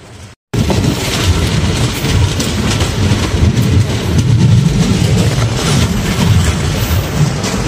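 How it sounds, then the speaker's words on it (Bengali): A local passenger train in Assam pulling away from a station platform, heard loud and close from on board as a steady, heavy rumble of wheels and carriages builds after a brief quiet moment at the start. "দেখুন প্ল্যাটফর্ম থেকেই কি স্পিড ছাড়ছে এই লোকাল ট্রেনটা"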